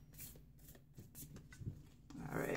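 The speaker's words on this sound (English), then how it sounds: "I'm just going to shuffle a little bit more," A deck of cards is shuffled by hand, not riffled, giving soft, close, papery rustles and flicks that run on continuously at low volume.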